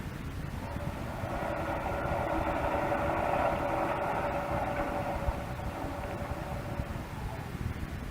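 A ship's engine churns steadily in reverse at full speed astern while the propeller is fouled with seaweed, a continuous low mechanical drone with a throbbing mid-range hum, staged as a radio drama sound effect with no voices.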